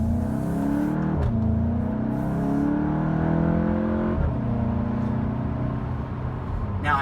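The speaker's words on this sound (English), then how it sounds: "with all the power that this has and the sound that the engine makes, it does not sound like a four-cylinder at all" A 2017 Volkswagen GTI SE with a 2-liter turbocharged four-cylinder and DSG gearbox pulls hard in sport mode, its engine note rising steadily with a sharp shift dip partway through, loud and continuous from inside the cabin.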